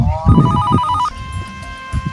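A phone rings with a bright electronic tone, cutting off after about a second, while low voices and movement murmur nearby.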